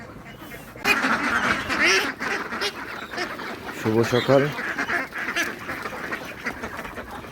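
Ducks quack repeatedly at a mixed duck and chicken farm in the morning, with a clear burst of close quacks midway and a person speaking briefly over steady farmyard background.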